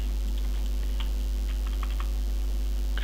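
Quick, light clicks of typing on a computer keyboard, a short burst of scattered keystrokes close by over a low steady hum, with no talking.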